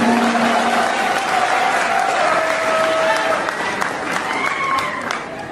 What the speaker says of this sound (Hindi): मोहतरमा जोरदार तालियों से इस्तकबाल करें।